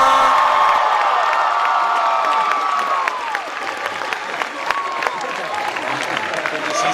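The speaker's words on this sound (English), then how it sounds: "They're cheering." A large anime convention crowd at Katsucon 2018 applauds and cheers loudly throughout, with whoops and shrill voices over a steady wash of clapping in a big hall.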